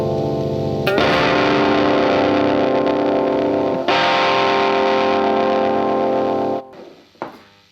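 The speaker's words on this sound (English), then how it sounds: "just fuzz, so no filter, no clean bass blend." Bass guitar through a homemade fuzz pedal with no filter and no clean blend, two long, loud, saturated sustained notes, each cut off abruptly, followed by a brief final pluck.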